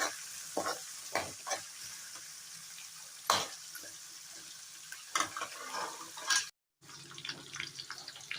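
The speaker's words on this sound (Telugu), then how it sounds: "ఉల్లిపాయ అలాగే పచ్చిమిర్చి ముక్కలు వేసుకున్నాము. వేసుకొని కొంచెం వేయించుకుందాం." Chopped onions and green chillies fry in a pan, giving a soft continuous sizzle broken by scraping stirs and a few louder clatters, close by and with no talking.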